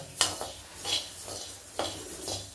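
Coriander seeds roasting in a non-stick pan, stirred with a utensil: a few distinct scraping strokes with a faint rattling of seeds, at close range with no talk.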